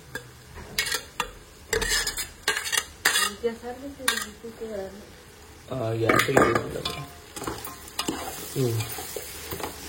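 Mutton pieces tipped into a hot pan for mutton sukka, followed by loud, steady stirring and sizzling frying with metal spatula scrapes against the pan, close and continuous, with brief voices in the background.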